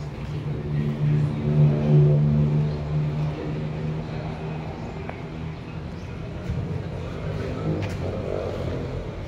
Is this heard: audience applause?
no